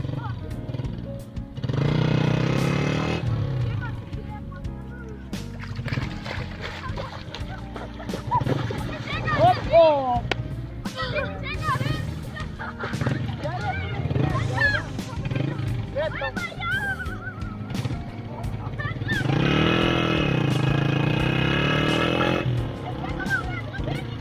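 A motorcycle stuck in mud revs in loud bursts, its engine roaring up and dropping back several times while people shout and talk over it.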